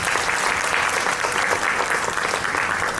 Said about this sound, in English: Let's give our cocktail sponsors a great big round of applause.